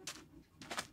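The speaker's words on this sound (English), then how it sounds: "Birds." Two soft bursts of bird cooing in the Minecraft video game, one at the start and one near the end, quiet and nearby with no talk.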